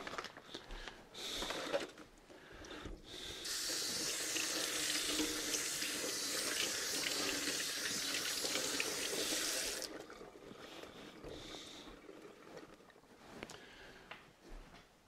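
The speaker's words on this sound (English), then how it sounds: "we're going to rinse this meat under some running cold water just for a second" Cold tap water pours steadily into a sink over bacon for several seconds, a close hissing rush with softer handling splashes before and after, no talking.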